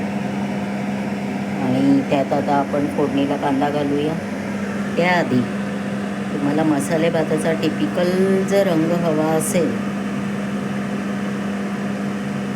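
Steady droning hum of a kitchen chimney exhaust hood running throughout, a constant low whir beneath someone talking while cooking masala rice.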